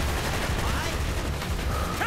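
Dense gunfire in the video game Call of Duty: Black Ops, a steady rattle of overlapping shots filling the short stretch, with someone speaking over it.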